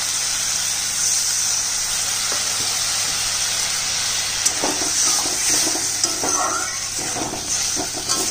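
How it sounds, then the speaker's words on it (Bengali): Banana flower fritter curry, pure vegetarian without onion or garlic, is stir-fried in a pan, a constant hissing sizzle broken by occasional clatters of stirring. "কষানো হয়ে গেছে, এবার একটু জল দিয়ে কষাবো।"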